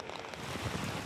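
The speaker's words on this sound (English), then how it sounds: "It's bucketing it down now." Heavy rain pouring down over a golf course at the Australian Open, a steady dense hiss with a broad, even wash of noise and no voices.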